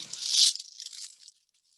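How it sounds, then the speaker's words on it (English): Parchment paper laid onto a cookie sheet gives a crisp crinkling rustle for about a second, close and fairly quiet, then stops. "I'm going to bring my cookie sheet over here, and I'm going to lay my parchment paper down."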